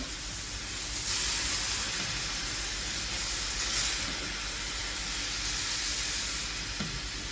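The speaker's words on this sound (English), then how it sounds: "And get that sauteing of that broccoli." Broccoli sautéing in a pan after cooking liquid is added, giving a steady, close sizzle and hiss of steam that runs the whole time with faint stirring underneath.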